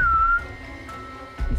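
A person whistles a single short rising-and-falling note, fairly clear and close, then the tone stops and soft rustling and breathy room noise follow in a quiet, empty prison setting.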